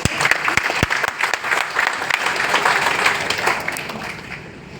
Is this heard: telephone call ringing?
no